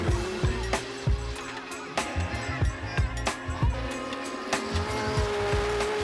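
A Toyota Supra race car laps the Donnybrooke Raceway circuit, its engine holding a steady, strained note close by, broken by sharp bursts and short percussive thumps over several seconds.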